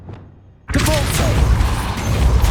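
Depulso spell cast in Hogwarts Legacy: a sudden loud magical burst after a quiet moment, followed by a sustained rumbling whoosh that lingers.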